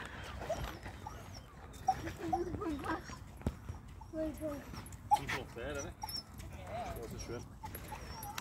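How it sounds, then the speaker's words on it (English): A dog on a beach at sunset whimpers and gives a few short yips and small barks, close but fairly quiet, mixed with people talking and outdoor background noise. "Look at the dog."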